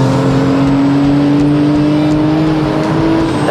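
A Porsche 911 GT2 or R35 GTR sports car drives fast on a racetrack, its engine droning loud and steady with a slowly rising pitch under acceleration and no talk over it.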